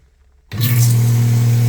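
Silence, then the pump motor of a Lechler IDKT 120-05 twin-fan sprayer abruptly starts and runs steadily with a loud low hum and hiss, close by.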